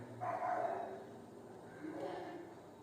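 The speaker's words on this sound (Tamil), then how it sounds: "எங்கள் வீட்டில் இருக்கக்கூடிய நாய் குலைச்சிட்டே இருக்குது" A house dog barking somewhere outside, faint and muffled against a low background hum, with two drawn-out bursts and no clear voice.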